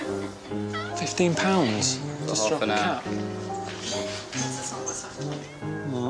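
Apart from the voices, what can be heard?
cats meowing in a cat café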